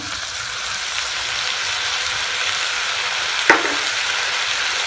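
Chopped tomatoes, coriander, mint and green chili being stirred in a frying pan for a Spanish omelette, a steady soft sizzle throughout with one brief clink of a utensil near the end.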